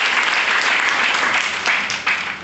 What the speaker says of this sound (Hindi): एक बार जोरदार और शानदार ताली इस प्रोडक्ट के लिए